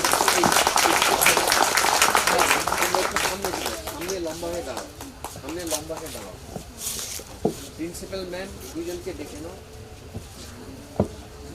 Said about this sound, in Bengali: একটু জোরে হাততালি হয়ে যাবে তো সবার জন্য